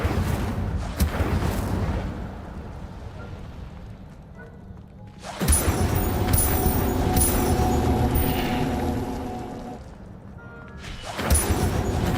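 A fire spell cast in the wizarding game Hogwarts Legacy erupts in loud crackling, whooshing bursts with rumbling low body, two strong flares separated by a quieter lull, with no talking.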